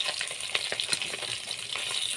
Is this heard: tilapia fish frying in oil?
yes